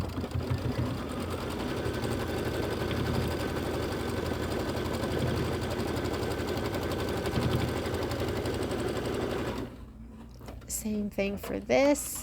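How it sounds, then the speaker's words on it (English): A quilting sewing machine runs steadily for about nine seconds, stitching an outline stitch around a pieced star block, with a rapid, even mechanical chatter; it then stops and a person speaks briefly. "it's going to do the outline stitch all the way around."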